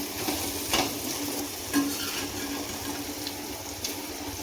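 Sliced okra (bhindi) stir-frying in a pan with already-fried peanuts added, giving a steady soft sizzle with a few light scraping stirs and no voices.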